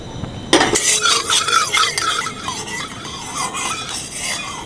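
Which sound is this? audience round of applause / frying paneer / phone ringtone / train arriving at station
frying paneer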